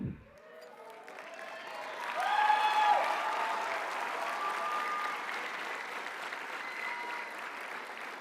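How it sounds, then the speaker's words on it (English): Standing graduating seniors applaud the audience at a graduation ceremony, with sustained clapping and light crowd cheering that swells after a couple of seconds and stays fairly steady to the end. "Seniors, stand up and applaud the audience."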